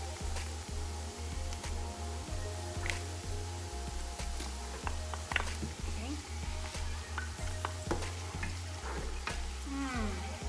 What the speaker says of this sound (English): While my onion is frying